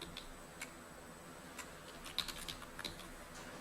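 Keys tapped on a computer keyboard while entering a font name in a spreadsheet, a few faint, scattered clicks in short bursts over a quiet background.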